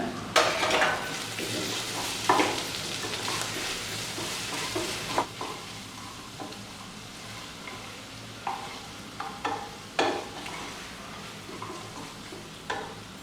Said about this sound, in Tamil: இப்போ இந்த மிளகுத்தூளை போட்டு ரெண்டு நிமிஷம் கிண்டி விட்டுருங்க